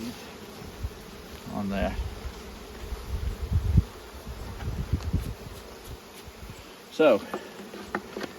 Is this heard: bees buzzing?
yes